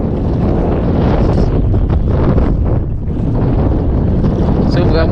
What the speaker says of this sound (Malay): Angin okey lah, tak apa-apa kuat sangat.